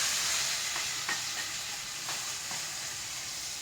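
Chopped pineapple sautéing in ghee in a pan, a steady bright sizzle with a few soft stirring scrapes, close and fairly quiet, with no voices.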